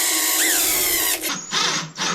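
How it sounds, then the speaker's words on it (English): A power screwdriver whirs while driving a screw into a plastic snow pusher plow, a loud motor whine lasting about a second, followed by a few short bursts as the screw seats. "So I'm using a power screwdriver."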